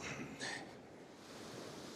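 Soft rushing wash of ocean water draining back out from a beach, a broad hiss that swells briefly then settles into a steady, fairly quiet roar.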